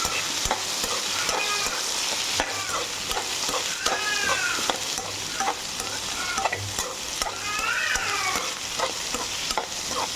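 Brinjal and potato pieces being sautéed in plenty of oil for a sabji, producing a loud, constant sizzle with frequent spatula scraping, and faint bird chirps sounding in the background.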